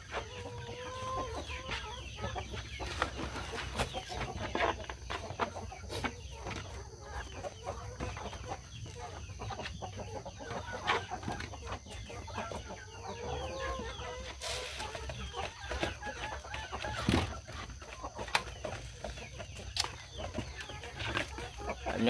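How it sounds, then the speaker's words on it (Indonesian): Large chickens in a backyard coop at feeding time, steady overlapping clucks and occasional squawks, moderately close over a constant low background hum. "Ayamnya gede-gede teman-teman."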